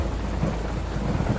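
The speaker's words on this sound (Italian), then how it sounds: "Piove ancora a dirotto." Heavy rain pours down with rumbling thunder in a horror-themed Peppa Pig animation, forming a loud, dense, continuous wash of rain and thunder throughout.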